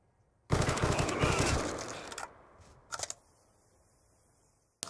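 Rapid automatic fire from a moderate video game gun, a loud dense burst of about two seconds followed by a short second burst and a faint click near the end.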